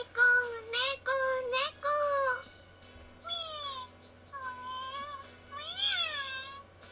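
Repeated voice-acted cat meows from the visual novel game Kanon: quick mewing bursts, then longer rising and falling whines, clear and close with quiet gaps between them.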